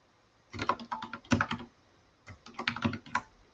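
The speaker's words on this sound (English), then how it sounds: "I'm gonna mute my keyboard" Computer keyboard typing in two bursts of rapid keystrokes with a pause between, close and fairly quiet, with no voices.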